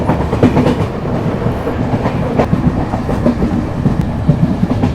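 The 12242 Amritsar–Chandigarh Intercity, a short train of sleeper, chair-car and second-sitting coaches, heard from onboard as a loud, continuous rumble with rhythmic clickety-clack of wheels over rail joints.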